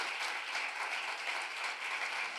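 Church congregation applauding during a Spanish-language sermon, a steady wash of clapping that holds evenly for the whole stretch without any voices over it.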